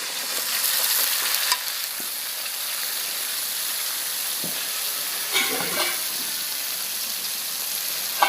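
Potatoes for a village-style aloo tomato curry sizzle in a pan, a steady bright frying hiss with occasional spoon scrapes and a few stirring knocks, without speech.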